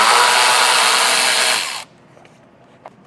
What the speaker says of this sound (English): there's going to be 10mm bolts securing this plastic piece on. So I'm going to go ahead and remove those.